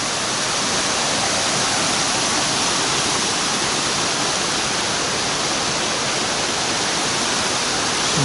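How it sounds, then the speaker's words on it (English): A waterfall fed by water pouring out of a mountainside on a hiking trail at Cumberland Gap, a constant full rushing roar heard close and unbroken throughout. "That water comes right out of the side of the mountain."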